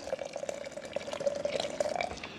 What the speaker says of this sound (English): put some more hot water in here and get the rest out